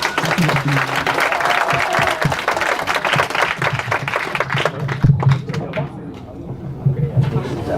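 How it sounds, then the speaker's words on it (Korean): Lecture-hall clapping welcomes a cultural anthropology professor to the stage, loud and fairly close at first, then thinning into scattered claps and a few taps as a voice begins speaking near the end. "엄기호 선생님을 큰 박수로 모시겠습니다"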